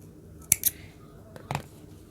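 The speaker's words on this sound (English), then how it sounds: "once you're finished, you can go ahead and cut the yarn" Scissors snip crochet yarn in a few quick, close, quiet cuts, with two sharp snips followed by another pair a second later.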